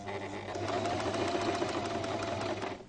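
A Lidl sewing machine stitching fabric, running in a fast steady whir with rapid needle ticks, close and even for nearly three seconds before stopping.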